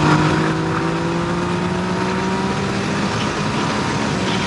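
A Yamaha MT-09 SP motorcycle pulls hard through a couple of gears, its engine note rising steadily and loud and close throughout, with no talk over it.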